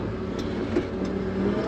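A dump truck working in a trench on a large dam construction site runs its engine in a steady, loud mid-pitched drone, with no voices over it.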